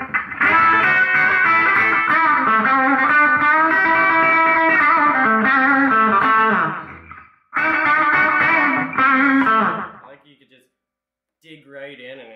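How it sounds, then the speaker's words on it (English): A distorted electric guitar, a Gretsch Brian Setzer Hot Rod on its bridge pickup, plays a gritty, growling riff, loud and sustained, then pauses, resumes briefly, and ends with a few sparse notes. "I really like this guitar for its nasty growl in the bridge."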